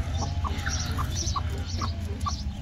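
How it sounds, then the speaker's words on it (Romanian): Japanese silkie chickens in an aviary making short, repeated clucks at a moderate distance over a low background rumble, with no full crow. "Acela e cocoșul."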